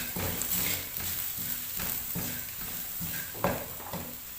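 Spices, black pepper and mixed herbs being stirred in a pan while making white sauce macaroni, with a steady sizzle under repeated scraping strokes of a spoon and one sharper clink near the end.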